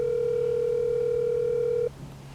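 Telephone dial tone on a call line: a steady, clean continuous tone held for about two seconds, then cut off abruptly, leaving faint low hum with no one talking.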